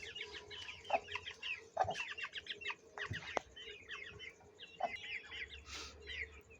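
Several purebred Aseel chickens from Amritsar cluck and chatter in quick, irregular bursts, fairly close, with a few sharp knocks and brief wing flaps in the background.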